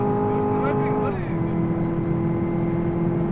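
A Chevy Camaro engine heard from inside the car while drifting around Dubai: a close, steady high-revving drone that drops sharply in pitch partway through, then settles into a lower, rougher hum.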